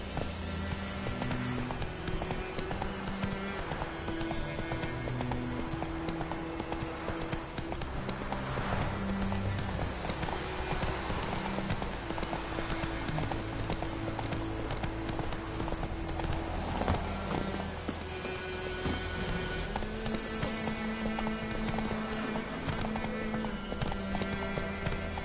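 Clip-clop of Roach's hooves, the horse in The Witcher 3, steady and rhythmic throughout with an occasional whinny, set against a continuous musical score.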